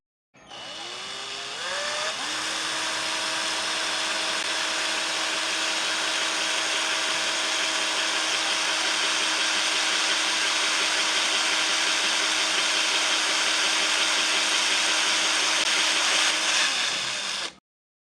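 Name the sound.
homemade cordless drill drilling into PVC sheet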